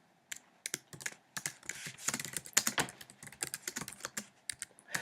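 Rapid, irregular clicking of fingers typing on a computer keyboard, close and fairly quiet, with short bursts and brief pauses over about five seconds and no talking.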